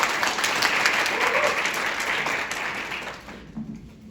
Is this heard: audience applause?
yes